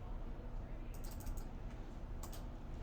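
Faint clicks of fingers pressing keys on a calculator keypad, a few quick taps in two small clusters over a low, steady background hum.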